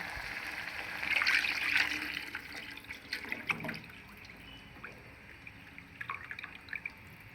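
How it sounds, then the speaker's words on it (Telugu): Tamarind juice is poured into tomato rasam, giving a short liquid splash followed by soft dripping and trickling into the pot. "ఇప్పుడైతే మనం చింతపండు రసం పోసేద్దాం"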